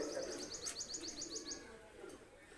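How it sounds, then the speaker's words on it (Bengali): A golden Pakistani high-flyer pigeon gives a soft, quiet run of rapid cooing notes, close by but faint against a low background hiss. "কবুতরটা আমি ছেড়ে দেখাচ্ছি"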